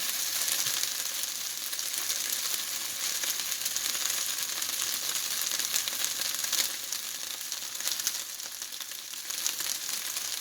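Chicken thigh pieces and shrimp sizzle steadily in a hot stir-fry pan, a loud continuous bright hiss with faint crackles throughout and no voices.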